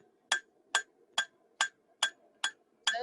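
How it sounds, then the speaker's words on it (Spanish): Hammering with the round end of a hammer, seven evenly spaced sharp metallic strikes about half a second apart, close and clear against a quiet background. "con la parte redonda del martillo"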